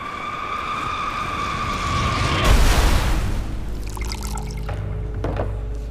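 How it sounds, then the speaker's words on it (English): A loud roaring rush of noise as an airliner breaks apart in mid-air swells into a violent burst with crackling and tearing, against a steady high tone, then rumbles on. "that's the sound of the plane coming apart"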